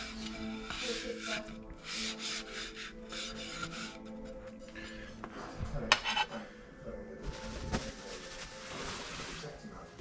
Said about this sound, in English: Just kind of rub that in.